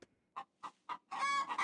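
A rooster in the Beasts of Bremen video game gives four short, evenly spaced clucks, then a longer, louder drawn-out call at the end, heard alone with no talking.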